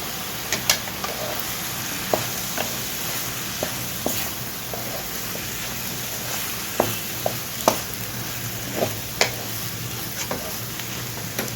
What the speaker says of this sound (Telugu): బెండకాయ ముక్కలు కూడా మనం వేసుకొని వేయించుకుందాము